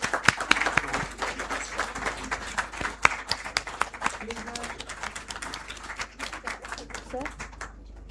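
An audience applauds a professor being felicitated on stage at a moot court prize distribution ceremony. Clapping starts with a few sharp nearby claps and builds into steady crowd applause, then fades toward the end, with faint voices underneath.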